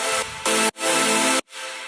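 A dense synth layer built from lots of noise, a saw wave and phaser sounds alone in three loud sustained chords, each cut off abruptly, with a brighter airy wash in the final hit.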